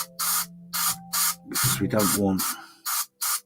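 Short bursts of spray paint from an aerosol can, a string of sharp hissing sprays in quick succession on a bench, with someone talking over the middle of them.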